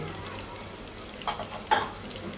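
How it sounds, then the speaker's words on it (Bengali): Green chilies fry in a pan with a steady, close sizzle, broken by a couple of brief stirring clatters. "মরিচটা কষাইতে থাকো"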